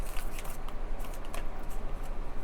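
A deck of cards is shuffled close by, giving a dense, continuous papery riffle and flutter for a couple of seconds, with no talking.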